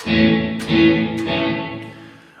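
Electric guitar played through reverb at a fully wet mix, sustained chords swelling and washing into a long, smooth tail, with two brief bright attacks as new strums ring in, loud and alone.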